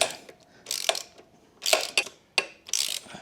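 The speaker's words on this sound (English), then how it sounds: "So 2 17s to tighten this up." A socket ratchet tightens 17mm bolts on a KTM 690 Enduro R skid plate, giving several close, bursty runs of rapid clicking separated by short pauses.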